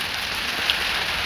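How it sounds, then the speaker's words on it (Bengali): Heavy rain pours steadily in a rural yard during a nor'wester storm, a dense, loud, even hiss of drops on surfaces that continues unbroken with no talk. "অনেক বৃষ্টি পড়তেছে, বৃষ্টির শব্দ শুনতে পান আপনারা"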